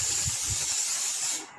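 Botny paint remover sprayed from an aerosol can, a steady close hiss that holds evenly for over a second and then cuts off, with faint low knocks at the start.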